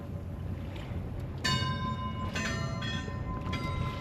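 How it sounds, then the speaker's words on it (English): A three-tone gong buoy at sea is struck by its clappers, ringing out in several metallic clangs with lingering overtones over steady wind and water noise. "Hey, this is a gong buoy. Looks like a 3-tone gong."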